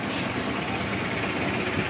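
A repaired vehicle engine idles just after starting, a steady low rumbling hum, close and even throughout, with no voices.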